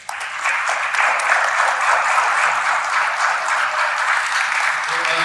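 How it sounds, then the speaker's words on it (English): An audience applauds steadily, a dense wash of clapping that starts abruptly and holds at an even level for several seconds. "Let's give a quick round of applause"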